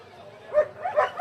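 Dogs bark and yip at the Sonpur cattle fair in Bihar, where large breeds such as Rottweiler, Labrador, Dalmatian and German Shepherd are on show; two or three short barks rise over a busy, murmuring crowd.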